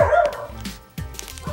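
Dogs barking outdoors at night: several sharp, close barks and yips in short bursts, with a brief quiet gap before more barking.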